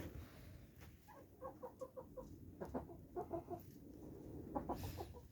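Hens and roosters in a warm henhouse cluck softly in short repeated bursts, with several birds overlapping in a quiet, close setting.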